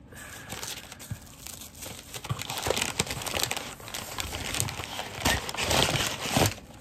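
Paper packing material crinkles and rustles while a parcel from a movie retailer is unpacked, with bursts of crackling and tearing that rise and fall over several seconds, close up and fairly loud, with no speech.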